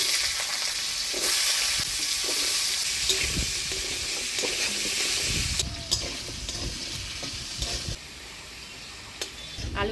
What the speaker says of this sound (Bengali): এবার এই কড়াইয়ে আরেকটু তেল দিয়ে আলুটা ভেজে নিব।